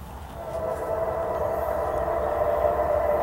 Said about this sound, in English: No, I think that's a military train empty.